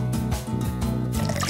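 A short squishy dripping effect as syrup is added to mooncake batter in a kids' cooking video game, heard over a loud, rhythmic background music loop with no talk.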